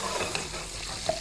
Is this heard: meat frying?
yes